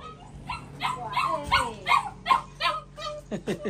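A small dog barks and whimpers in a quick run of short yips and whines, close by and fairly loud, with no talk over it.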